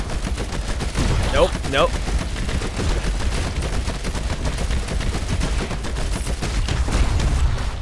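Gunshots in a space shooter video game, dense rapid fire running almost continuously and loud, with brief speech over it.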